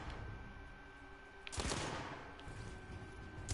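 Video game gunfire in The Order: a sudden, sharp burst of rapid shots cracks out midway after a quieter stretch, then fades into lingering echoes and a few fainter follow-up shots.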